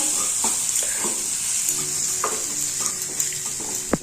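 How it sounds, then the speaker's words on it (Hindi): Ground cumin, coriander and chilli powders are stirred into paneer bhurji in a frying pan, giving a steady sizzle broken by scattered spoon scrapes and a sharp knock near the end. "देखो ये सब गुंड मसला को देकी भल के मिक्स कर नहीं।"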